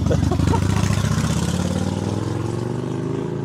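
Loud motorcycle engine revving at high speed close by during a noise inspection test, with a buzzing, pulsing rumble that holds steady and slowly eases in pitch.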